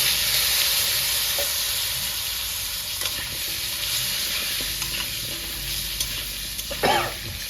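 Potatoes fry in oil in a village-style kitchen pan and are stirred, producing a continuous sizzle with clinking stirring scrapes and a louder scrape near the end.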